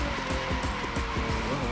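Arcade racing car drifting in The Crew 2, engine revving in repeated surges while tires squeal and skid continuously throughout, loud and close with no talk over it.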